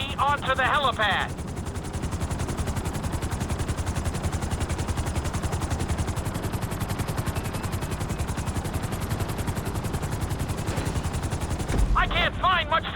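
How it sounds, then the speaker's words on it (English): Helicopter in Grand Theft Auto V descending onto a helipad, its rotor producing a loud, rapid, continuous chopping beat that fills the whole stretch, with brief radio-like voice chatter at the start and end. "Bring the helicopter down gently onto the helipad."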